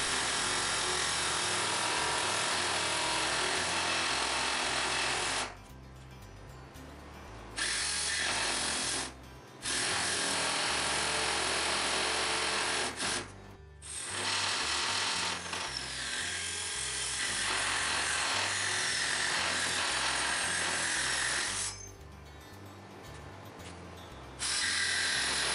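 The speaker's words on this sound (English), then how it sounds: "Use the cutoff wheel to cut down the inside." A cutoff wheel slicing through a boat trailer ramp whines loudly in long sustained bursts, broken by several short pauses where the tool drops to a quieter spin before biting into the metal again.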